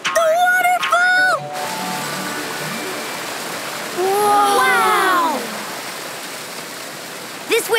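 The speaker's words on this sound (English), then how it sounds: "Is that a waterfall?" Cartoon waterfall heard as a steady broadband rush of falling water, moderately loud and continuous, while animated characters speak and exclaim over it.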